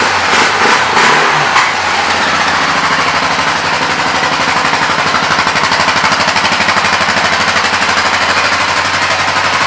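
A 2016 Honda XR650L single-cylinder motorcycle with 956 miles starts with a brief cranking burst, then settles into a steady, loud, close thumping idle that runs on evenly.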